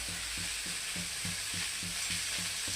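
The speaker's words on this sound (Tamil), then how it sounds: "வெங்காயம் போட்டு இப்போ இதுக்கு தேவையான உப்பு போட்டுக்கணும் நல்லா வதங்கணும்" Chopped onions fry with rock salt and curry leaves for a crab curry, a steady close sizzle with regular stirring scrapes throughout and no talking.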